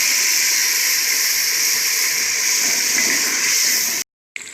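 Blended onion paste hits hot frying kofta masala with a loud, steady hissing sizzle that holds evenly for about four seconds, then cuts off abruptly, with a brief faint sound after.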